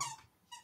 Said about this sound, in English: don't mind my dog squeaking